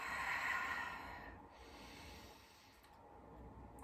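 Slow, deep breathing during a gentle stretching yoga flow, a long audible inhale and exhale close to the microphone, soft and unhurried with no talking.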